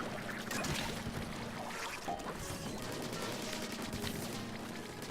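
Rapid gunfire from a Splatoon Salmon Run match, a dense stream of close, rattling shots mixed with splashy, watery bursts and game effects, with no talking.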